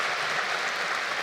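A university convocation audience applauding after a speech, a dense, steady wash of many hands clapping together in a large hall, even and unbroken throughout.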